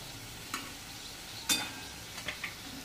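Pieces of leftover chapati fry in oil in a pan with a soft, even sizzle, broken by a few sharp clicks and scrapes as they are stirred; no voices.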